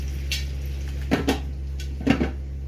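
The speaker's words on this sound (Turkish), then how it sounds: "Şimdi bunun kapağını kapatacağım." A cooking pot being covered: a few quick metallic clanks and scrapes of the lid settling into place, close by over a steady low hum, with no talk.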